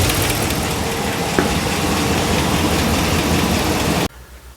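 A rebuilt 5.7-litre engine in a 2009 Ram idles loudly up close, with a steady rumble and light ticking that runs for about four seconds and then cuts off to quiet.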